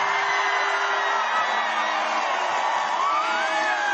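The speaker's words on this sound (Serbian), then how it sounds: "pozdravite još jednim velikim aplauzom moj tim" Large outdoor crowd welcoming a tennis champion outside the National Assembly, a dense continuous roar of cheering, whooping and clapping at steady loudness throughout.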